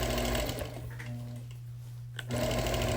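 A sewing machine quilts a wool quilt with a fairly quiet, steady motor whir that stops briefly midway and then starts again.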